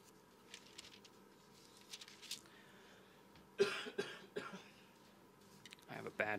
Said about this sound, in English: I'm going to be fighting this cough now